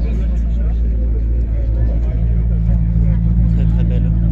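A 4C sports car pulls away at a classic car gathering, its engine a steady, loud rumble close by with low droning tones, while people talk over it.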